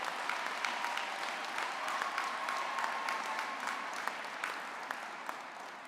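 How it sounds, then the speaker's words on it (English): A graduation ceremony audience claps steadily for the whole stretch, a dense, even applause heard from some distance and fading slightly toward the end. "applause"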